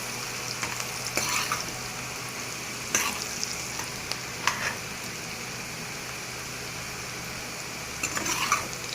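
Onions frying in a pan with salt, a steady soft sizzle broken every few seconds by louder bursts of stirring scrapes, close up and with no voices.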